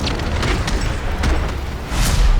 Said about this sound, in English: These are zombies that will run real quick and explode in contact.